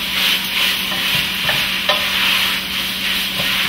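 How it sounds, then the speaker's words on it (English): Potatoes are stirred into Toscana soup in a pot, giving a steady close sizzle with a few soft scraping knocks of the spoon and no voices. "So we're going to add our potatoes in. Kind of start mixing those together."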